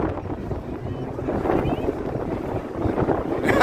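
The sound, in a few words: wind blowing on the microphone outdoors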